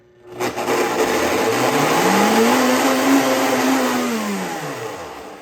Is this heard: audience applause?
no